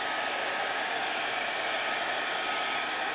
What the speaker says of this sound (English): Just gonna hit it with a little bit